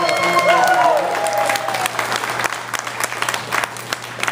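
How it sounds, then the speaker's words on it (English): Audience applauding a live country band after its set, dense sustained clapping with some cheers and a fading guitar note at first, steady and loud throughout. "why don't you give this band a round of applause for playing for you"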